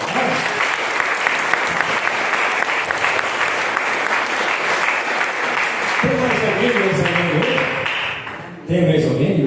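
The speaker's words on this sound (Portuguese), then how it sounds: "Aí, ó, uma salva de palmas para ela." Applause breaks out for a birthday at a Sunday church service, a sustained crowd clapping that fills most of the clip before fading, with voices rising near the end.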